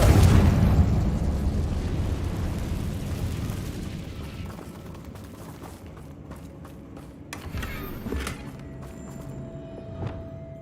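A blasting spell detonates in Hogwarts Legacy, a loud boom at the start that rumbles and decays over several seconds, followed by scattered smaller crackles and thuds as debris settles.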